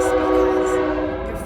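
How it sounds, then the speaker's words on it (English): A train horn sounds steadily over the heavy rumble of a train, loud and close, holding for the whole moment. "Your train is coming."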